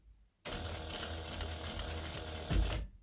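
A sewing machine stitches straight down a trouser zipper on pants fabric in one continuous fast run of needle clatter, close and loud, ending with a short heavier thump.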